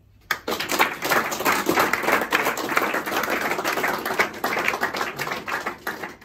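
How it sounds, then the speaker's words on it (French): An audience at a public evening discussion about the future of Palexpo breaks into applause, the clapping starting abruptly after a brief quiet and continuing as a dense, steady patter of many hands for several seconds. "je vous demande d'applaudir"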